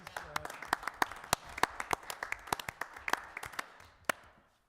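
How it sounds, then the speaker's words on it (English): Audience at a city council meeting clapping, sparse distinct claps from a small group with uneven rhythm, fading out toward the end. "join with me in giving her a round of applause"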